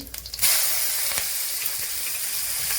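Ground green chili is fried in hot ghee with cumin seeds, a loud, steady sizzle and hiss close up that holds evenly after a sharp start.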